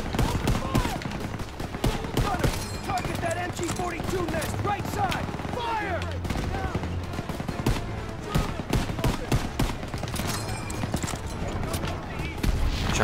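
MG42 machine gun fire in the Call of Duty WWII Operation Cobra mission, with dense, continuous automatic bursts and scattered gunshots that fill the scene, loud and close, while someone talks over parts of it.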